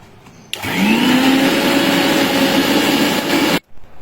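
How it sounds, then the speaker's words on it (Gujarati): Kitchen mixer grinder whirring loudly as it crushes fresh mint leaves with a little water, a steady motor whine starting abruptly and running for about three seconds before cutting off. "હવે ફુદીનાના પાંદડા નાખી અને ક્રશ કરી લઈશું મિક્સરમાં."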